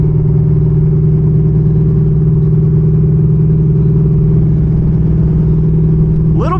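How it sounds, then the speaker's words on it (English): A cammed Pontiac Trans Am with a Speed Engineering exhaust runs steadily on a dyno, giving a loud, constant low engine drone that holds throughout with a brief rising sweep at the very end. "That Speed Engineering exhaust sounds good."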